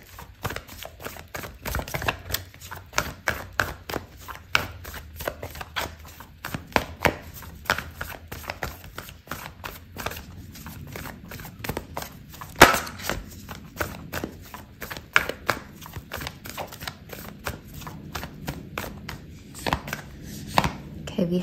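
Oracle cards shuffled by hand during a tarot reading make rapid, irregular papery slaps and riffles that repeat steadily for the whole stretch at close range.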